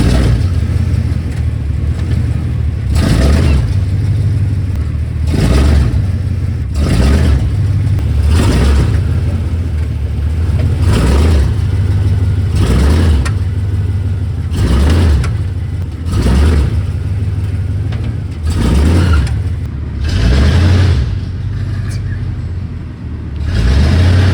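A lifted 1988–1998 Chevrolet K1500 pickup drives along with a loud, steady engine rumble that swells and eases in regular cycles, close and continuous with no talk over it.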